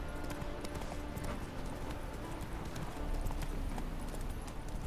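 Roach, the horse in The Witcher 3, gallops with a steady, rapid clip-clop of hooves that stays close and loud for the whole stretch, layered over a dense rumble of game ambience.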